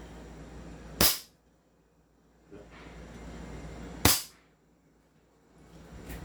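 Two sharp, loud snaps from a fully upgraded CZ Shadow 2 airsoft pistol, spaced about three seconds apart, each a crisp isolated shot over faint background hiss.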